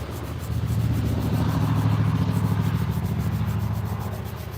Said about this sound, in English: Sorry for the road noise, it's just where I live.